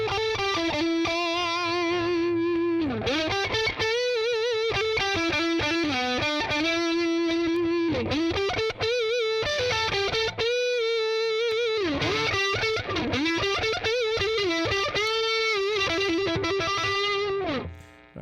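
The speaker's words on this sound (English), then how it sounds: "So that's all of the distortion." An electric guitar plays through heavy distortion from a dual Mesa-style rectifier amp with the gain rolled back, sustained chords and riffs ringing out loud and alone for about eighteen seconds.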